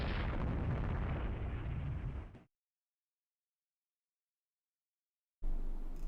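Naval gunfire in the warship strategy game Rule the Waves 3, loud, sustained booming that abruptly cuts to silence, then another heavy blast bursts in at the end.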